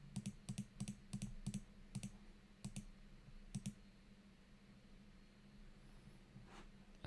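Computer keyboard keys tapped in quick bursts of sharp clicks while an email address is entered, the typing stopping after a few seconds and leaving a quiet room hum.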